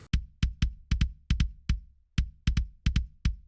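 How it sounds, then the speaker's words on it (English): A sampled Drumforge kick drum, kick 9 recorded with a D6 mic, struck alone in a quick uneven pattern of about fourteen tight, punchy hits with short decays. "And that kick by itself sounds like this."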